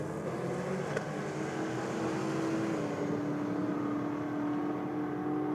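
A Chevelle muscle car drag races against a VK at a roll drags event, its engine a sustained, fairly distant roar with a rising whine as it pulls away, no voices over it.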